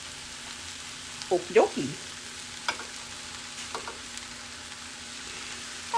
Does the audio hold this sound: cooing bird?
no